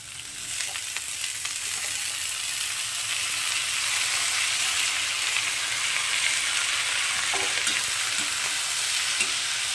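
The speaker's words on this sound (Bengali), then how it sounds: "আলুগুলোকেও আমি একটু পাঁচ মিনিট ভেজে নেব আমরা" Cut potatoes sizzle steadily in hot oil with lightly fried onions while being stirred in a pan, a close, continuous fry with faint scraping throughout, for a Malabar spinach stem dish.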